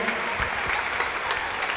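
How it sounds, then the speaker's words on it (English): Applause from a swimming pool crowd after a new Canadian record in Victoria, a steady wash of clapping with no break for its whole short length. "how about a round of applause once again?"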